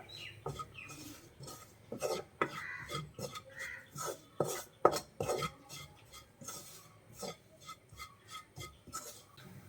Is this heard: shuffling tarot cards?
no